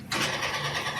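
A 1996 Honda NSR R150 with an RC valve and original CDI starts up, giving a short, near burst of engine noise that settles into a steady mechanical buzz over about a second.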